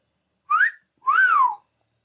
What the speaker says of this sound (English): Shen whistled.